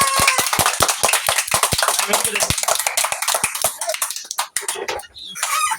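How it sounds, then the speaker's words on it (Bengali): A group claps together during a playful party challenge game: quick, sharp handclaps repeat in a brisk rhythm at first, then thin out and become irregular as people talk over them. "সবাই একটা করে তালি দাও সবাই।"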